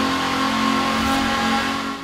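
Forza Horizon 4 car drifting, with a high sustained engine whine held near full revs and a steady tonal drone, loud and close with no talk, dipping slightly at the end.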